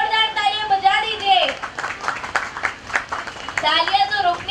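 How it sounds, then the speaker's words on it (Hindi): A small audience claps at a first birthday party in a hotel venue in Chembur, with brisk, uneven applause between stretches of voices. "एक बार जोरदार तालियां बजा दीजिए"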